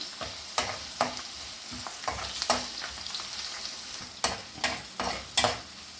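Cumin seeds and urad dal tempering in hot oil for a bottle gourd dish, giving a steady close sizzle and crackle broken by several sharp spoon-stirring scrapes, with no talk.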